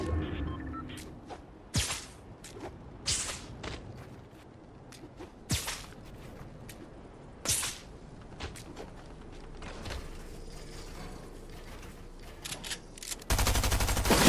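Sniper rifle shots ring out in a Fortnite match, several sharp isolated cracks spaced a second or two apart over quiet game ambience, ending in a louder burst of noise.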